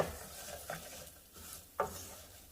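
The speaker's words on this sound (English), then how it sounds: "I'm going to add the onion and saute that for about a minute or so." Onion sauteing with golden toasted rice in a pan for Mexican red rice gives a soft, quiet sizzle, with a few light scrapes of a spoon against the pan.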